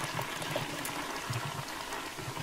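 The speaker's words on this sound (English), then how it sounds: "You will now be able to flush the bloody diarrhea toilet." A toilet flushes in the Resident Evil 7 game. The faint, sustained rush of draining water runs evenly from start to end.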